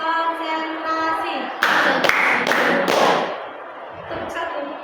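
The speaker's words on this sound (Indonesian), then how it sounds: "Tepuk satu, tepuk dua, tepuk tiga, tepuk empat, tepuk lima, tepuk enam, tepuk kosong" Group clapping game in a counseling session, with voices counting aloud while a burst of several loud hand claps lands in the middle, spaced irregularly over steady talk.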